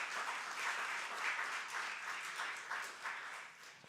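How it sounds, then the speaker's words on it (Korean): Congregation applauding at a Korean Presbyterian church completion and retirement service, a soft, somewhat distant wash of many clapping hands in gentle surges, with no speech over it. "여러분 크게 박수 격려해 주시기 바랍니다"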